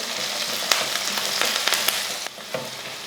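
Small onions and curry leaves sauté in hot oil for a vegetarian Tamil lunch, a steady close sizzle with a few sharp spatula scrapes and pops, no one speaking.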